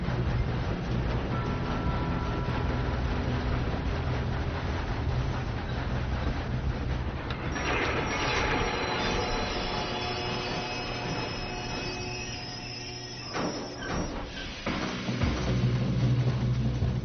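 A train rolls past in the video game Red Dead Redemption 2, a steady mechanical rumble that swells into a brighter metallic screech midway before settling back into the low drone.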